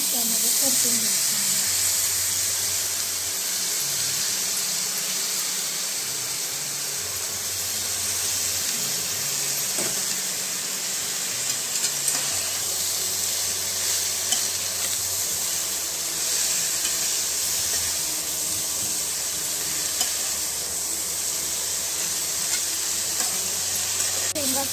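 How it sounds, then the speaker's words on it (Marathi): Green ghevda bean pods sauté in a hot pan with onion, garlic and mutton masala, a steady close sizzle and hiss with occasional stirring scrapes, continuous throughout with faint background voice. "शेंग टाकून त्यामध्ये परतून घ्यायचं।"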